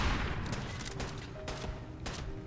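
Gunfire in Fallout 4, with several distinct loud shots spaced through a short stretch over a dense, constant game background rumble. No voices are heard.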